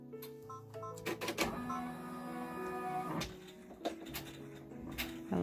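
Embroidery machine sewing a top stitch in the hoop on an in-the-hoop zipper bag: a busy mechanical whir with rapid clicks and tapping, close and moderately quiet, with a few sharper knocks.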